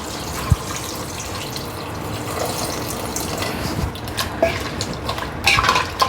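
Water pours into a pressure cooker in a home kitchen, a continuous splashing wash with a light clink near the start and a brief clatter toward the end, without talk.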